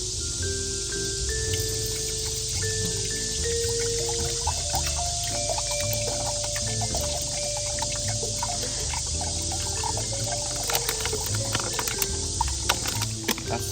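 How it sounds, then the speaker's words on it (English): Water is poured into an electric kettle running off a Bluetti Elite 100 V2 power station, a continuous close trickle and splash with rising tonal burbles as the kettle fills. "Then pour in some agua."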